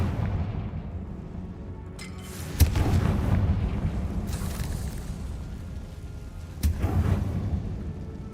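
Explosive impacts from the Confringo fire spell in Hogwarts Legacy. Two distinct booming bursts sound about four seconds apart over a continuous low rumbling battle backdrop.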